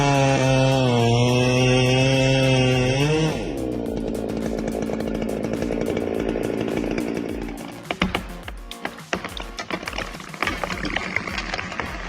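A big chainsaw cutting a tree, first a loud, high revving whine that drops as the blade bites into the wood, then rough, crackling cutting noise with snaps of splintering wood toward the end.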